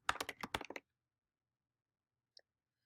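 An email address is typed on a computer keyboard as a quick, close burst of key taps lasting under a second, then silence and one faint click.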